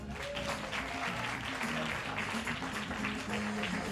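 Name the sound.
applause for the speaker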